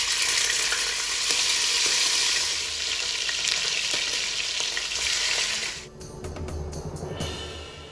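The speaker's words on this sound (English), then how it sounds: "I am frying this on medium heat" Beef sizzles in vegetable oil in a pot over medium heat, a loud, steady crackling hiss that fades sharply near the end, followed by a few clattering stirs.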